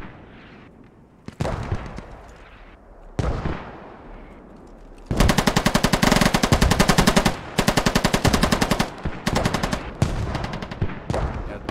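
Heavy machine-gun fire in a Squad match, loud sustained rapid bursts after a few single heavy shots, dominating the mix with a commentator's voice faintly beneath.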